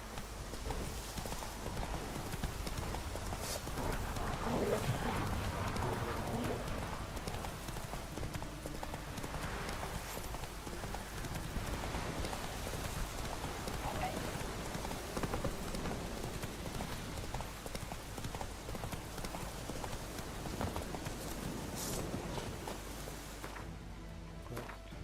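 Horse hooves galloping in steady clip-clop rhythm through The Witcher 3: Wild Hunt, close and continuous over a rainy, ambient backdrop, with occasional faint neighs.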